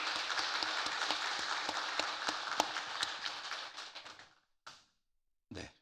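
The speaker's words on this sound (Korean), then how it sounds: "한번 선교사님에게 박수로 격려해 드리도록 하십시다" A church congregation claps to encourage a missionary during a worship service, dense applause that thins and fades after about four seconds, followed by a couple of brief trailing sounds.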